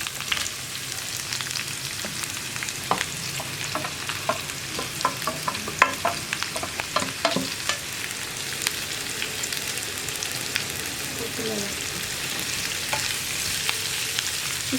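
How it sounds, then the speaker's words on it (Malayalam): Sliced onions added to hot oil with ginger and sautéed for an egg roast: a constant frying sizzle with a run of sharp spoon-on-pan scrapes and clicks early on, then steadier hissing, with no one talking. "നമുക്കിതിലേക്ക് മുറിച്ച് വെച്ചിരിക്കുന്ന സവോള ചേർക്കാം"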